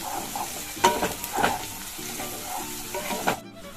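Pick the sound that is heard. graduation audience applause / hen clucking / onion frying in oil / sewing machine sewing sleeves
onion frying in oil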